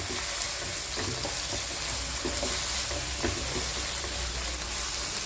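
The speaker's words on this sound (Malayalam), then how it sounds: "ഇപ്പം ഞാനിവിടെ ഇഞ്ചി വെളുത്തുള്ളി പേസ്റ്റാണ് ചേർത്ത് കൊടുത്തേക്കുന്നത്. നന്നായി നമുക്കൊന്ന് വഴറ്റിയെടുക്കാം." Ginger garlic paste and green chilies sautéing in a pan, a steady dense hiss of frying with faint light ticks of stirring, even and continuous throughout.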